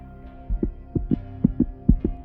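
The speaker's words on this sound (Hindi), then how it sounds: "मेरे दिल की धड़कन तेज हो गई" Rapid heartbeat sound effect in a horror story, a steady series of deep, thumping double beats pulsing alone over a low hum, with no voice.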